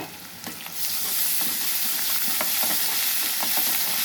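Ginger garlic paste sizzles in a hot pan for tomato rice, a loud steady frying hiss with occasional stirring scrapes, and no voices.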